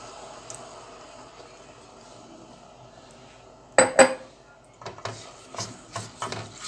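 A spoon stirring lutenitsa sauce in a pot on a switched-off stove, quiet at first, then a burst of scraping and a series of rubbing, clinking strokes against the pot.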